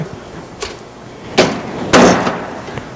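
Furnace door panel bumped into place, three sharp hollow metallic knocks of rising loudness, close and alone without talk.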